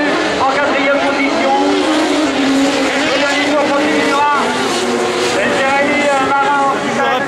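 Racing buggies at a BuggyCup final roar past on a race track, loud high-revving engines rising and falling in pitch as they pass, continuous throughout with commentary talk over the engines.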